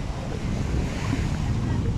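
Strong wind buffets the microphone in a constant, roaring rush along the shoreline of Diani Beach, Kenya, with surf washing faintly underneath.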